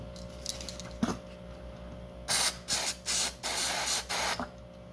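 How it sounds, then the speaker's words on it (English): CRC cleaner is sprayed onto a bulb in a Mercedes SLK 230 climate control module during repair, six loud hissing aerosol bursts in quick succession after a quiet start over a low steady hum. "So I'm gonna hold that bulb open, and I'm gonna hit it with the CRC"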